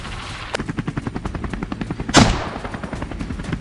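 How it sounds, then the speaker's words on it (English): Rapid gunfire from a helicopter hovering low during a wild boar hunt, a steady string of sharp shots one after another over the chopper's rotor thud, with one louder crack near the middle. "Gunfire erupts, one by one."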